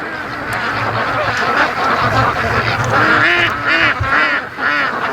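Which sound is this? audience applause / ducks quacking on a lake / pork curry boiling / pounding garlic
ducks quacking on a lake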